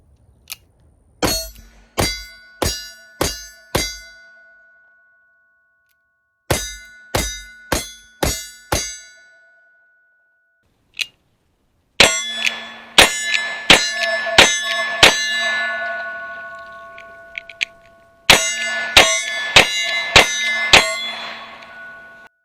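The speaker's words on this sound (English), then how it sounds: "I'm shooting my 1851 Richard Mason conversions from Cimarron" Shots from 1851 Richards-Mason conversion revolvers ring off AR500 steel targets in rapid strings of five or six, each crack followed by a bright metallic clang, with pauses between volleys and a longer ringing tail in later strings.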